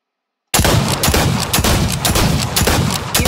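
Rapid, loud gunfire from a pistol in the video game Fortnite, a string of close shots beginning abruptly after a brief silence and continuing steadily.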